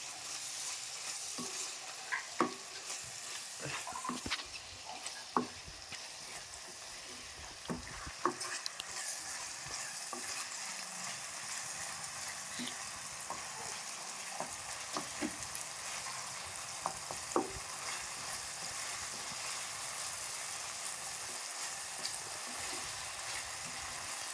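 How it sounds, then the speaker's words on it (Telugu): A tomato, egg and green chilli curry being stirred in a frying pan, with soft sizzling throughout and repeated scraping knocks of the spoon against the pan, fairly quiet and close. "ఒకసారి మొత్తం కలుపుకోవాలి"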